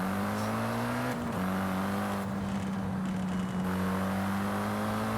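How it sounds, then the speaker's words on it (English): A JDM car's turbocharged engine in Forza Horizon 5, droning steadily at cruising speed with a brief shift in pitch partway through, close and continuous with no talk. "You can hear the turbo."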